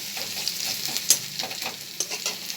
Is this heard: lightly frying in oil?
yes